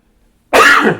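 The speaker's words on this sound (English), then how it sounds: "Pardon me. I got sneezes." A single loud sneeze from a person bursts out abruptly after a near-silent pause, close and forceful, then trails off.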